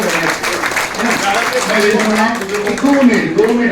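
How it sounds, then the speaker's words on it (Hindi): Applause from a gathered audience at a Ceragem centre anniversary celebration in Indore, clapping running steadily under a loud voice and tonal sound that stay on top throughout. "एक बार तालियां बबलू भैया के लिए बजा दीजिए"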